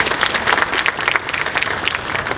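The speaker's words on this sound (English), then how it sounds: "And another round of applause, please" Audience applause at a community education session on out-of-school-time programs, a steady wash of many hands clapping close and loud across the whole stretch, with no voices standing out.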